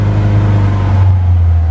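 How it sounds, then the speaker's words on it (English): Lada VAZ-2101 engine warming up just after a cold start on the choke, a loud, close, steady low rumble with an even throb and no talk over it. "Alright, now that the car is started, we're letting it warm up."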